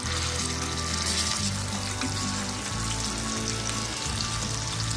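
Pieces of surmai fish fry in a pan with a steady, dense crackle and sizzle that fills the clip, with faint low cooking hum beneath and no talking.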